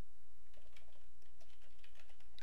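Rapid, steady typing on a computer keyboard, close up, with soft even key taps running continuously over a constant background hiss.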